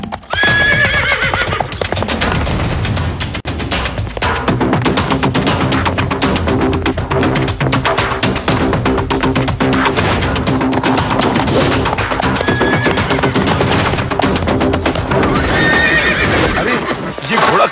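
A horse in a Hindi cartoon neighs loudly and repeatedly while its hooves clip-clop steadily, with the riderless horse returning alone. The sounds stay dense and close throughout, under a busy soundtrack, with whinnies rising near the start and again near the end.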